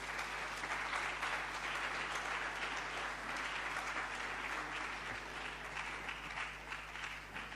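A crowd at a Ghanaian government briefing on the economy applauds continuously, a thick, sustained roar of many hands clapping at an even level over a faint low hum.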